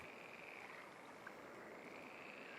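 Frogs croak in a lakeside setting in the fishing video game Call of the Wild: The Angler, a faint continuous chorus of croaking under a steady ambient wash.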